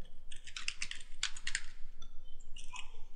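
Fingers tap out a username on a computer keyboard at a Linux Ubuntu terminal, giving quick clusters of close, crisp keystrokes with short pauses between the bursts and no talking.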